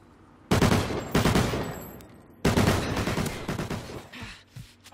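Two bursts of rapid video-game gunfire, each a loud cluster of close shots followed by a fading tail, the second volley longer than the first, with no talk.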